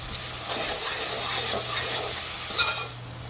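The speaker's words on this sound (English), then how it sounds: "Mix it nicely and cook for a few seconds until the raw smell is gone from ginger garlic." Ginger garlic paste sizzles and fries in a pan while being stirred for carrot fried rice. A close, continuous crackle runs throughout with a low steady hum beneath.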